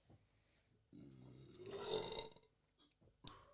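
A single drawn-out human burp, soft and low at first, swelling midway and then trailing off, recorded quietly in an otherwise near-silent room.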